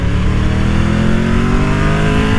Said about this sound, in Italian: il motore è molto elastico